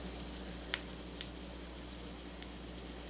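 Oil and flour sizzling in a hot pan for a roux: a soft, steady frying hiss at low level, with a few faint clicks over a constant low hum.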